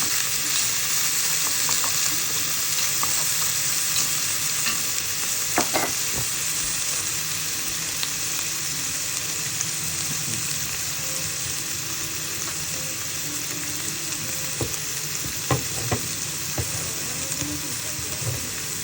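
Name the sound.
sautéing garlic, onion and ham in a pan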